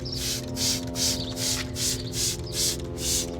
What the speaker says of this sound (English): It's been about a half hour since I've misted it with a spray bottle.